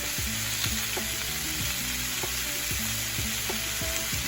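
A grill set to low heat sizzles steadily with a hiss, over a repeating, faint clinking pattern in the background.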